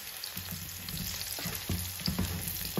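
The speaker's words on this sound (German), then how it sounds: "Herrlich, wie das brutzelt." Potatoes frying in a pan for Bratkartoffeln, a steady close sizzle with crackling bursts and scraping stirs that grow busier toward the end.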